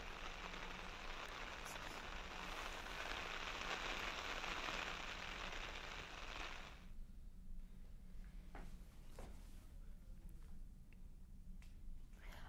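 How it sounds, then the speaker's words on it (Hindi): Heavy monsoon rain pours down in Almora, Uttarakhand, a dense steady hiss for about seven seconds before it drops away, leaving quieter dripping and scattered knocks. "अल्मोड़ा में मूसलाधार बारिश जारी है"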